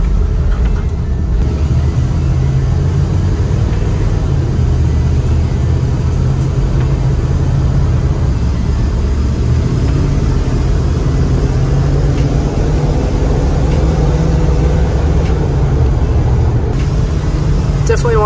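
A 1996 Ford Econoline van with a 7.5L engine drives along, its loud, steady cabin drone and road rumble filling the whole stretch, with scattered faint ticks that may be rocks striking the body.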